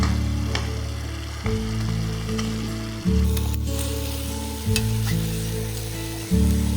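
Boiled, cut potatoes go into a bubbling masala gravy for a spicy curry, a continuous sizzling simmer with a low droning hum underneath and a few soft thuds and stirs, no voices.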